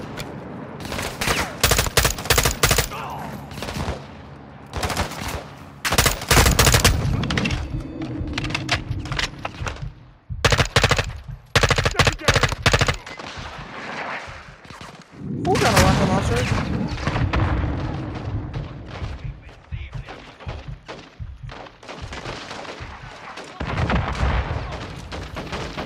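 Heavy gunfire in a Call of Duty Modern Warfare firefight on the streets of Las Almas: repeated loud automatic bursts and booming shots, with rapid volleys, short pauses, and voices occasionally heard amid the shooting.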